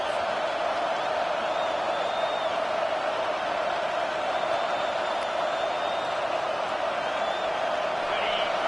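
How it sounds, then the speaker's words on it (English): A home crowd roars at a college football game on third down, a dense and steady wash of cheering that stays loud and unbroken throughout. "Here comes this home crowd as the defense tries to get off the field on 3rd down."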